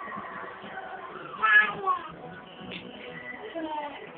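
A cat meows a few times nearby, its cries rising and falling, with a person's voice talking softly over it.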